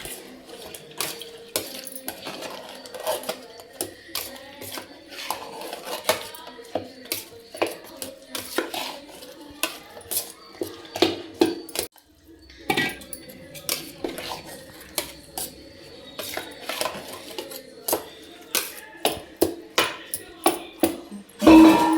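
A spoon scrapes and clinks steadily against a bowl while thavala adai batter is mixed with added water, making repeated sharp taps and wet stirring close up that run without pause for about twenty seconds.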